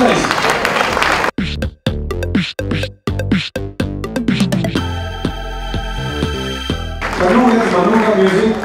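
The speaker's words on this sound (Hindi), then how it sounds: "एक बार जोर से तालियां बजाएं।" A studio audience on the set of a dance reality show breaks into loud applause after a pause, then music cuts in with sharp beats while the clapping swells again near the end.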